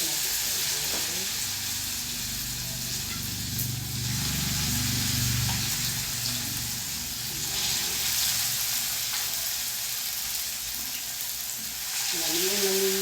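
Food sizzles and fries steadily in hot cooking oil, a continuous close hiss throughout, with faint voices in the background.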